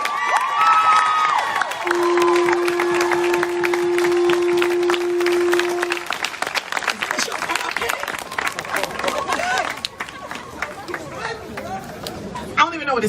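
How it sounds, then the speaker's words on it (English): Crowd at a street protest rally cheering and applauding teen activists, loud and dense with shouts and chatter, a sustained tone cutting through midway, the noise thinning toward the end. "Give them one more round of applause, y'all."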